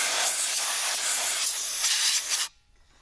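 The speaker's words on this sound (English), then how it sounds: "So I'm gonna blow some air there to get some of that out as well." Canned compressed air blasts dust out of a computer case around the PCI card slots, a loud close continuous hiss lasting about two and a half seconds before cutting off abruptly into near silence.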